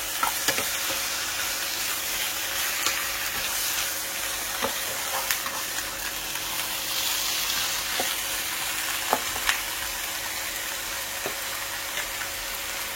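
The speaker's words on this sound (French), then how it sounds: "Je mélange bien le tout, hein." Chicken, spinach, eggplant and okra frying together in a pan, a loud continuous sizzle broken by periodic scraping stirs, close up and without talk.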